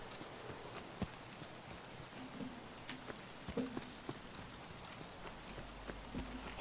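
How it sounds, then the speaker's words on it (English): Rain in the shooter Escape from Tarkov patters softly and steadily, a faint wash of drops with a few sharper taps scattered through, and no voices. "Rain's stopping."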